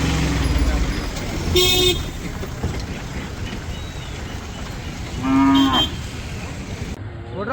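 Cattle low in long, loud moos twice at the Maddur fair, a busy outdoor cattle market, over a background of crowd chatter, vehicle noise and a horn toot.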